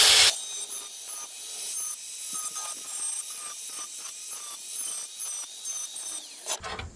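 Angle grinder working on rusted metal during a Jeep YJ rust repair, a close abrasive grinding and rubbing sound lasting several seconds with short bursts and pauses.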